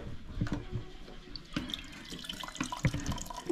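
Water runs from a tap and splashes into a container in uneven gushes and drips, close and clear with no talking.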